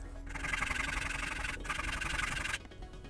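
Sandpaper rubbed by hand over a prop jet pack part, two long continuous abrasive sanding passes separated by brief pauses, close and steady.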